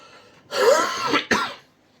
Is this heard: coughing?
yes